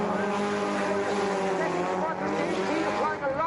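Drift cars skid into the second turn on a circuit at Sturup in Sweden, engines roaring continuously with tyre noise close up, while a commentator talks over it.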